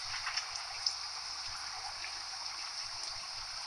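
Steady rain in the Bus Simulator 2015 video game, a soft continuous patter and hiss at even, low level with a few faint drop ticks, heard alone.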